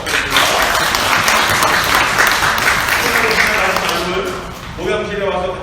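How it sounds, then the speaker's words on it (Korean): A church congregation applauds at a Sunday worship service, sustained close clapping from many hands that swells and holds for several seconds before tapering, with voices audible near the end. "잘 다녀오라고 격려해 박수 부탁드립니다"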